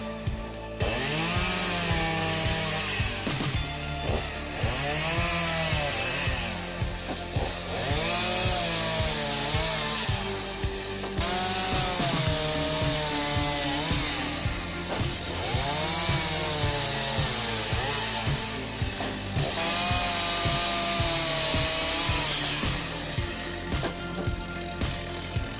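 A chainsaw roars steadily through wood, its engine pitch rising and dipping as it bites into cuts, loud and close throughout with no talking.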